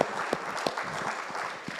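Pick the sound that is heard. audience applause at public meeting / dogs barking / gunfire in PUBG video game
audience applause at public meeting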